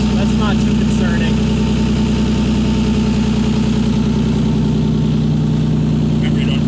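A Ford Fusion engine swapped into a Mazda 6 idles steadily on its first startup, with open headers and no coolant hooked up. The loud, even, low drone holds throughout, with voices talking in the background.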